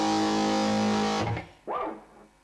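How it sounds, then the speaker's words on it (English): Heavily distorted solid-state guitar tone from an ART SGX 2000 preamp on a preset: a loud, buzzy sustained chord rings for about a second and cuts off, then a single bent note swells and fades. "solid state distortion that this preamp has to offer"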